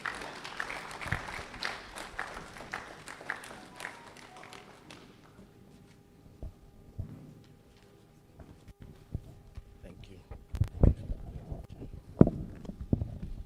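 An audience at a public lecture on food safety in Ghana applauds, a dense crackle of clapping for about five seconds that then gives way to a quieter room with scattered taps and a few louder knocks.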